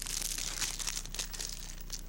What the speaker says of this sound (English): Lots of crumply paper.